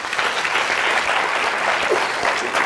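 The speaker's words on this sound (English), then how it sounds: "Give a round of applause, guys." Steady applause from an audience at a comedy debate, dense clapping filling the whole stretch at an even level with a little crowd murmur.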